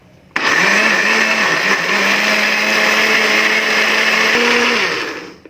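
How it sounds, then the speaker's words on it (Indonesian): A blender grinds cooked rice with sugar until smooth: a loud, steady high whir that starts abruptly, runs unbroken for about five seconds, then winds down, with no voices. "Sekarang ini akan saya blender dulu"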